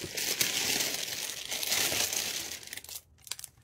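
Small plastic packaging bags crinkle and rustle as they are opened, a continuous close crackling that stops abruptly near the end, followed by a few light handling sounds.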